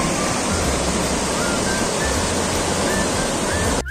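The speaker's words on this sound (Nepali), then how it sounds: "यो चाहिँ त्रिशुली नदीको पानी चाहिँ बहाव गरी चाहिँ एकदमै बगिरहेको छ पानी" The Trishuli river in Nuwakot rushes in strong flow, a dense, loud and steady roar of water close by that holds constant from start to finish.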